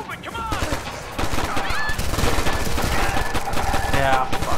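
Rapid, continuous gunfire from a shooting section in Ghost Recon Future Soldier, close and dense, with overlapping automatic bursts and game effects sustained through the whole stretch.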